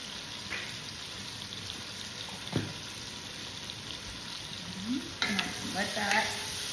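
Sausage seasoned with salt and pepper cooks in a frying pan for tomato carbonara, a continuous close sizzle with occasional stirring scrapes and a brief louder burst of spattering.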